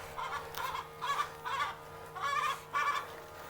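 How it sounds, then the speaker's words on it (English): Chickens clucking nearby in a steady series of about six short bursts over a constant low background hum. "Chickens are hungry."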